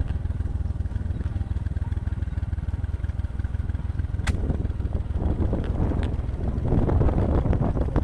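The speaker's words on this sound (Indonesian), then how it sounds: "Ini motor kecil, ya." A small motorbike rides a narrow trail on the route to Danau Cinta in Sukorejo, Kendal, its engine rumbling low and continuously up close under heavy wind buffeting on the microphone, with the noise building slightly toward the end.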